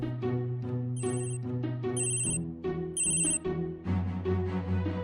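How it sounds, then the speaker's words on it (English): Bright electronic ringtone melody from a Tile Bluetooth item tracker, chirping in short repeated phrases, loud and close, with rhythmic high beeps over a bouncy synthesized tune. "you can also activate a Tile to ring so you can find it by sound"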